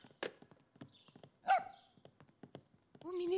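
A small cartoon dog yaps in short, sharp barks scattered across a few seconds, with a louder drawn-out yelp near the end, set among other cartoon sound effects with no talking.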